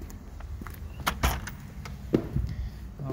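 A house front door being opened at a residential property, heard as a few dull knocks and a sharper latch-like clunk against low, steady room noise with no talking.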